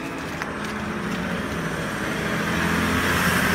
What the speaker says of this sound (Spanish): Espera, que va a pasar el coche.